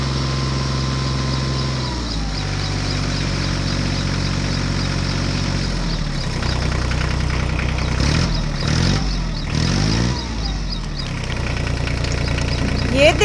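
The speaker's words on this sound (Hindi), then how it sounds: "चलो चलो बच्चों, हम फोर्ड ट्रैक्टर को निकालने की कोशिश करते हैं।" A Ford tractor strains to haul its trolley out of mud, the engine droning steadily, then pitching and surging through several laboring revs over a tonal musical background.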